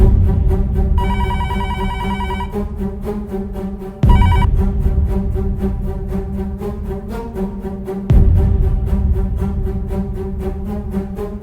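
A loud telephone ringing repeatedly in a steady, insistent pattern, with a few abrupt changes in the ring, in an Odia TV drama episode.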